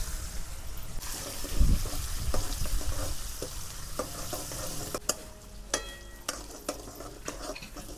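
Onion frying in a pan with cumin, asafoetida, curry leaves and green chilies while it is stirred, a steady sizzle broken by scraping clinks of the spoon against the pan.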